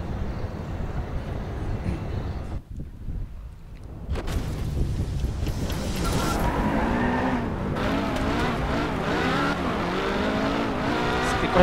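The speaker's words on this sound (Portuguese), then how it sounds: "é um Porsche tunado" A tuned Porsche races in Driveclub, its engine roaring loud and close and rising through the gears, with tire squeal and skidding as it takes the corners after a brief quieter stretch.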